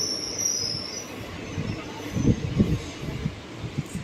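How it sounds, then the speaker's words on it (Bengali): A train from Azimganj pulls into a quiet, nearly empty rural station, with a low rumble and a faint squeal of wheels on rails, moderately loud, building slightly toward the middle, with no talk. "এরপরই আমাদের এই ট্রেন আজিমগঞ্জ থেকে আসলো এটি।"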